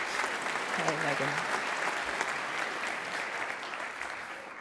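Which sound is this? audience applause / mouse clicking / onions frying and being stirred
audience applause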